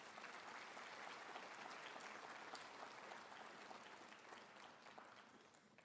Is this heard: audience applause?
yes